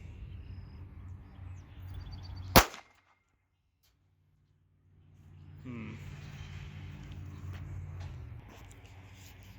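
A single sharp, loud shot from a Ruger LCP .380 pistol firing 95-grain Herder's ammo into a fridge, a sudden crack that cuts off into near silence before low background noise returns.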